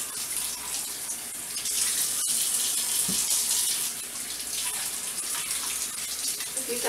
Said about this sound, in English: Get these all rinsed.